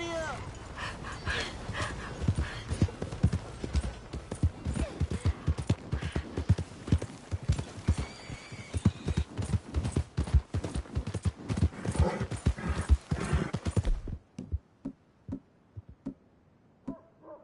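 A horse being ridden in a PS4 video game clops along in a steady, rapid rhythm of hoofbeats, close and prominent, with a dog barking and whimpering and some speech mixed in, before the hooves stop abruptly near the end.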